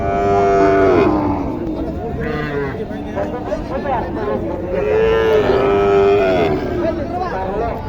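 Cattle at a busy bull-calf market in Naogaon low out in long, drawn moos, one near the start and another around the middle, with traders chattering loudly throughout.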